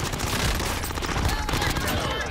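Rapid automatic gunfire in the video game Warzone, a dense, loud burst of overlapping shots that fills the whole moment, with a voice mixed in beneath.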